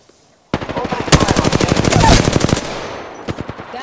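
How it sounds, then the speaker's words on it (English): Rapid automatic gunfire in Apex Legends starts abruptly, then rattles in a fast, even burst of close, loud shots for about two seconds before trailing into a few scattered pops. "You're shooting at me."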